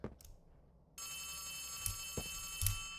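A telephone rings steadily in the video game Poppy Playtime Chapter 3, a bright continuous electronic bell tone starting after a second of quiet room noise, with faint clicks and thumps underneath.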